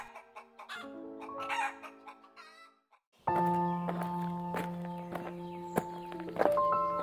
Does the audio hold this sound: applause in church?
no